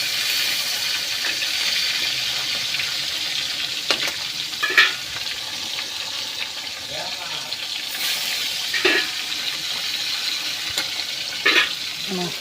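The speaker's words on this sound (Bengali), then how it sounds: "একটু মাছগুলো ছেড়ে দিয়ে তারপরে যাই ততক্ষণ ভাজা হবে" Fish fries in a pan on a gas stove, with a steady, close sizzle throughout and occasional knocks and clatters from utensils.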